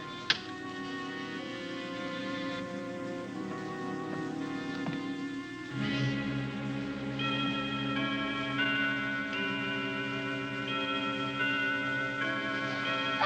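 An old clock ticks steadily in a 1959 horror mystery film scene, its regular beat sitting under sustained musical tones with no speech.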